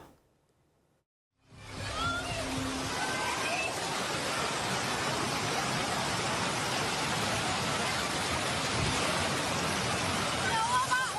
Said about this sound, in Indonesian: hujan deras mengguyur wilayah Ngalian